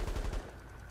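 Automatic gunfire in the war shooter World War 3, set in a Berlin warzone: a rapid burst of loud, rhythmic shots fills the first half, then breaks off into a lower rumbling background with no talk.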